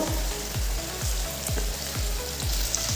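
Steady sizzling of ridge gourd frying in a pan with nigella seeds, with repeated scraping strokes of a spatula stirring roughly every half second.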